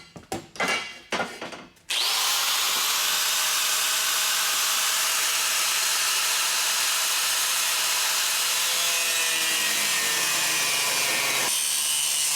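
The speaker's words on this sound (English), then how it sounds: "So I'm gonna go ahead and cut this off" A loud, continuous power-tool cutting roar slices through a line during an oil catch can install on a 2JZ-powered 240sx drift car, starting abruptly after a few brief clatters and running steadily for about ten seconds.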